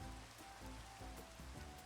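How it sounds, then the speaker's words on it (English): A rain storm in a video game makes a dense, even hiss of rainfall on surfaces that runs steadily throughout. "why is it storming?"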